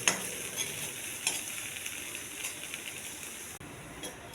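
Chopped coriander leaves dry roasting in a pan without oil, stirred with a steady scraping rustle and light sizzle, a few sharper scrapes standing out, close and alone.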